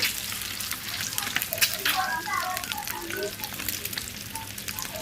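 Boiled eggs coated in turmeric and chilli powder frying in hot oil, a steady close sizzle with scattered pops and crackles running throughout, while a voice speaks softly over it at moments.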